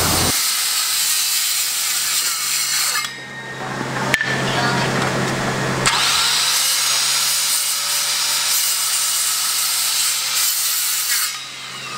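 A power saw rips through a stacked set of wooden framing studs cut to length, a loud steady buzzing cut that runs most of the time with brief drops in pitch and level partway through.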